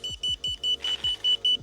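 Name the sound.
Circooter Landturbo electric scooter lock beep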